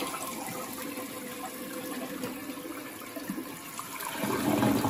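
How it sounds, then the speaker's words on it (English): A household toilet flushing after being rebuilt with a Korky Universal repair kit: a steady, close rush of draining water for several seconds, rising into a louder gush as the tank refills. "now let's try a flush, shall we?"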